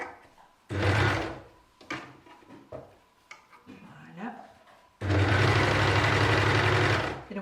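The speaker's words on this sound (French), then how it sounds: "on surjette bien la marge de couture uniquement" Sewing machine overlocking the seam allowance of a long maternity-friendly skirt, two loud sustained runs of fast stitching separated by quieter handling clatter of fabric and parts, without speech.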